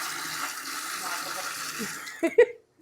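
Borewell motor water gushes from a pipe as a steady, close rushing flow, broken near the end by a couple of sharp splashes or knocks before it cuts off.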